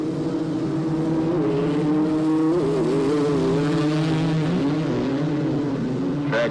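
Three-wheeler ATVs at a 1985 AMA National race in Miami roar at high revs, a loud continuous engine drone with pitch rising and falling as they bounce around the track and jostle for position.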